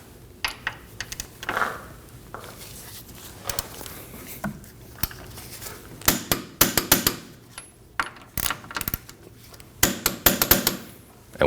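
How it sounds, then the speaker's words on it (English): Torque wrench tightening the rear control arm bolts on a 2015-2024 Ford Edge's front suspension, heard as clusters of sharp metallic clicks and clanks in bursts, loudest toward the end, with no talking. "we can torque the back two bolts to 122 foot-pounds"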